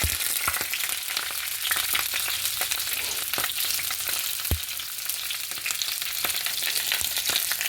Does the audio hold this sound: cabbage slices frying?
yes